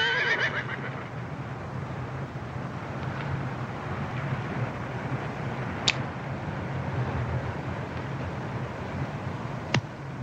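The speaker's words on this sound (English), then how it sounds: "Caballo." A horse whinnies loudly at the start in an outdoor Western scene, then a steady low rumble of movement and hoofbeats continues with a couple of sharp clicks and no speech.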